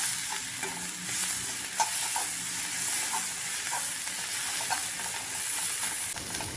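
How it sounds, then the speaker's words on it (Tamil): Steady sizzling of drumstick flowers frying in a pan on low heat with intermittent scraping as they are stirred, close and continuous. "அடுப்பை சிம்மில் வச்சு கிளறி கொடுத்துக்கலாம்."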